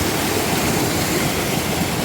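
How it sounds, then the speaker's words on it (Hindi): Water running off rice terraces above and feeding into a stream in Bali, a steady, close rushing and gurgling flow that fills the whole moment without a break. "ये जो ऊपर के राइस टेरेसेस हैं उससे पानी आ रहा है और इस स्ट्रीम में जोड़ रहा है"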